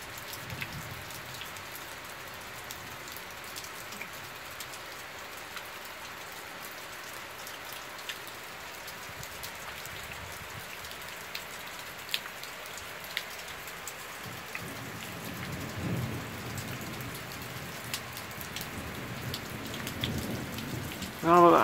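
Heavy rain falls during a thunderstorm, pattering steadily and closely with scattered louder drops on a surface; the downpour swells slightly toward the end and no talking is heard.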